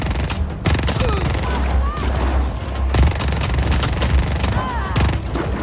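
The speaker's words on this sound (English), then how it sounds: "I like the hit marker sounds" Rapid bursts of video game gunfire in Just Cause 4, dense crackling shots and booms in close succession, mixed with game sounds and a voice talking over it.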